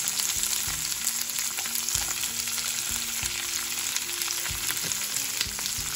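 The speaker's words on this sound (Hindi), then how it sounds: "अभी इसको अच्छे से फ्राई कर लेंगे।" Onion and capsicum fry in a pan for a homemade tomato soup, hissing in a loud, steady sizzle with occasional scraping stirs close by.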